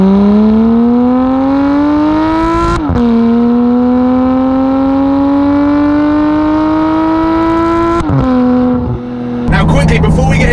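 A Porsche sports car engine roars and climbs through the gears in a tunnel, loud echoing rising tones dropping at each shift, ending with rumbling crackle.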